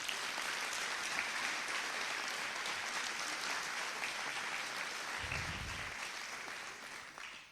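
Sustained audience applause at a swearing-in ceremony: dense, even clapping from a large crowd that holds steady for several seconds and then begins to fade.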